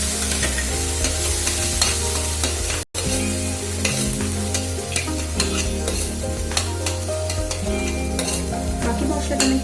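Onion, ginger, garlic and tomato spice paste fries and gets stirred in a pan for prawn malaikari, with steady sizzling and repeated scraping strokes of a spoon, loud and close, with one brief dropout.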